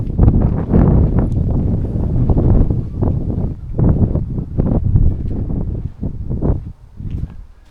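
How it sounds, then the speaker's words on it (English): Strong outdoor wind beside a church next to a Roman lighthouse in Dover, buffeting the microphone in loud, uneven gusts and rumbles with short lulls between blasts. "It's very windy."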